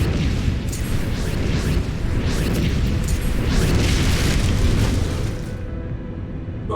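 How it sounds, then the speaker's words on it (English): A dense barrage of booming explosions from the Final Fantasy XIV Online video game rolls on continuously, loud and overlapping, with deep rumbles and bursts that fade slightly near the end. No one speaks. "explosions. More explosions."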